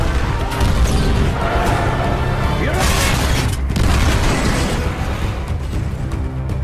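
Deep booming explosions and crashing blasts as aircraft cannons and dropped bombs hit a mine's front gate, rolling through a dense, loud action-film soundscape, with scattered voices buried in the mix.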